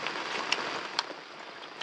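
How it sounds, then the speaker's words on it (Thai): Heavy rain falls in a forest as a dense, steady hiss, with a few sharper drops striking nearby surfaces at irregular moments. "เพราะว่าฝนตกแล้ว"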